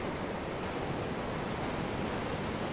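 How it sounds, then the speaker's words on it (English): Gentle ocean waves wash steadily onto a beach as a soft, continuous broadband rush with no distinct breaks, evenly loud throughout and heard alone without voices. "listening to the gentle waves."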